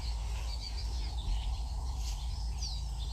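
Birds calling in the Cuckoo Corridor, a few faint chirps and short whistled notes scattered over a steady low outdoor rumble, with no talk.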